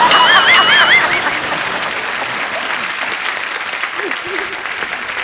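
Loud studio audience applause on a television comedy talk show, dense clapping and cheering that starts strong and carries on steadily throughout, with a brief whistle near the start.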